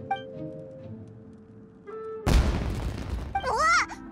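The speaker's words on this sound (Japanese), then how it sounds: "あそこで何か爆発したぞ" In the video game Genshin Impact, a sudden booming explosion erupts after a quiet stretch of music, loud and broadband, with a rumbling tail, followed by a bright rising whistle-like sound; game characters speak around it.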